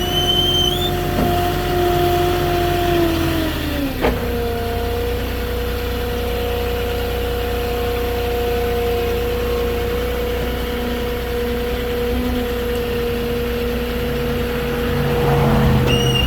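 A Moffett truck-mounted forklift idles steadily on a street, a low continuous engine drone with slight vibration and a brief shift in pitch near the start, no voices.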